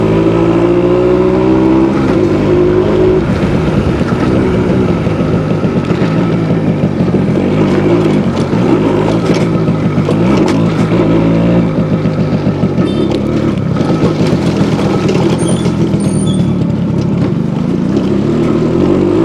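Suzuki AX100 motorcycle engine while riding, a loud, close buzzing two-stroke drone with wind rush that rises and falls in pitch through gear changes and throttle shifts over a long continuous stretch.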